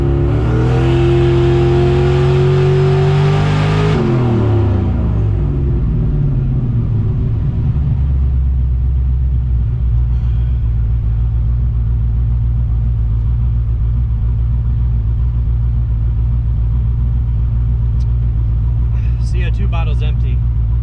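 Turbocharged small-block Buick engine with Holley Sniper fuel injection on a dyno, roaring at high revs for several seconds, then dropping off and settling into a loud, steady low rumble.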